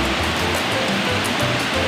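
Kawasan Falls in Trinidad, Bohol, swollen with heavy muddy water pouring from above, gives a loud, dense, unbroken roar of falling water heard up close.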